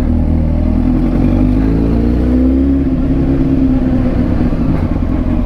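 A Honda CBR 1000 RR SC57 motorcycle engine that had sounded oddly hesitant to start, now running loud and close with a continuous low rumble and a gently rising and falling rev.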